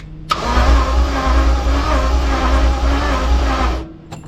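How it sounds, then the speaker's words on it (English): An Audi Q7 engine cranking on its starter motor while the car sits jacked up on stands: one steady, loud whirring crank lasting under four seconds, close by. "I gently tickled the starter motor and"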